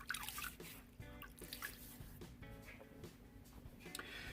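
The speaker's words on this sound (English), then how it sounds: "Let's throw a little bit of water on our face." Water is scooped and splashed onto a face before shaving, with small drips and splashes landing in a basin, a few distinct wet slaps and trickles close by, no talk.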